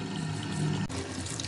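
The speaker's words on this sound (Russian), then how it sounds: "Вот видите, включили. Да будет вода!" Tap water rushes steadily from a kitchen faucet that has just been unclogged, a dense continuous hiss of flow, loud and close, with a brief dip partway through and no talking.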